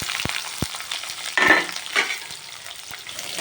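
Onions fry in a pan with a soft, steady sizzle, broken by a few sharp utensil clicks and stirring scrapes.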